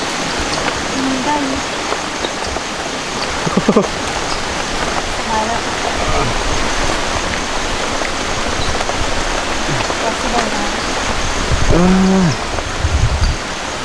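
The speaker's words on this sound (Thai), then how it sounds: "โอ้ฝนตกเลยนะตกแห้งอีก" Steady rain hisses down in a dense wash of noise, with occasional faint birdlike chirps and brief background voices.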